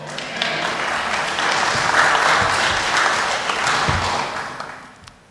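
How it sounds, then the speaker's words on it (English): Audience applause at an evening church conference, a dense, sustained wash of clapping from a large crowd that swells and then fades out. "Give them a good applause."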